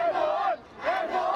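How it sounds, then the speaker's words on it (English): A crowd of demonstrators rallying over a coup attempt in Turkey, two loud rising chant bursts with a short dip between, voices blended into a roaring unison cry. "hundreds are out here chanting, cheering, and praying"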